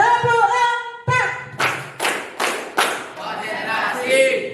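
Students in a ninth-grade classroom clap in unison four times, evenly spaced and crisp, while a teacher talks before and after the claps.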